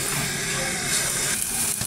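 Spice paste for a beef and chana dal curry sizzling steadily in a pan after a splash of water, a dense, even hiss throughout with faint stirring scrapes, no voices.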